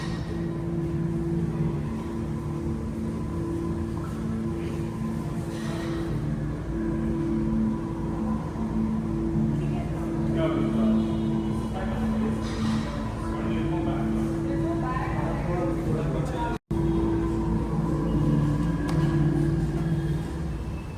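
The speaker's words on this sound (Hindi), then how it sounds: "और ये इलेक्ट्रिक इंजन साउंड।" A Lamborghini Revuelto producing its electric drive sound, a steady low hum with layered tonal whine held continuously over about twenty seconds at moderate loudness, with a brief dropout near the end.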